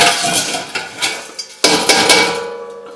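Rinsed wild rice goes back into a metal kettle amid a flurry of clanks and knocks, several sharp metallic hits in quick succession, loud and close, ending with a short ringing decay.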